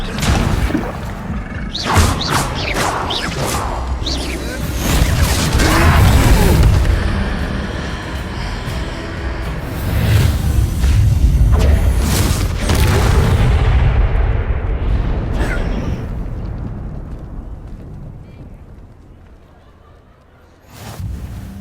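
Blasting spells fired in the Hogwarts Legacy video game, producing loud, booming explosions and rumbling impacts in a dense battle mix that fades toward the end. Game voices call out spell names over it.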